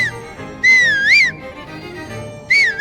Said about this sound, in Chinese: 如果是他没有过来，我们就先松手吹口哨吸引他